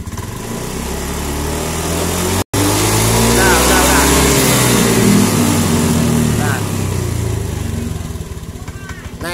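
Engine of a Honda Beat motor scooter being revved during a charging-system check, a loud, close, steady idle that swells into rising revs, with a person speaking over it.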